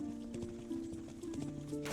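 Galloping horses in the castle-defence game Thronefall, with hoof clip-clops and a brief whinny over steady game music and battle noise.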